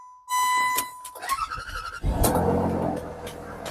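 An electronic beep cuts off as a 2003 Land Rover Freelander's engine cranks with a rapid churning rhythm, then a louder rumbling roar as it nearly catches, close by.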